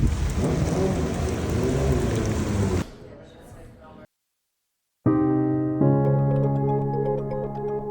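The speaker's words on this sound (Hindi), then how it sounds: "तूफ़ानी बारिश का" Steady heavy rain roars for a few seconds, then cuts to near silence before a tonal, musical sound begins; any thunder is hard to pick out.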